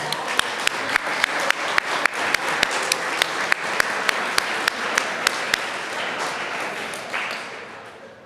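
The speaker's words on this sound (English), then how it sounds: "Let's applaud after each team." An audience at a college athletics senior awards banquet applauds after a team is announced, with sustained clapping and a few sharp individual claps standing out before it fades near the end.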